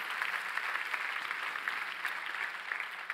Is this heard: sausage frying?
no